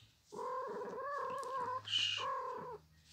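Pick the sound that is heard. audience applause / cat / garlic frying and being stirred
cat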